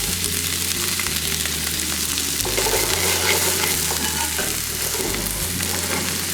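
Red cabbage and bok choy stir-fry in a fry pan, a loud, continuous sizzle close up with the scrape and toss of stirring running through it and no talking.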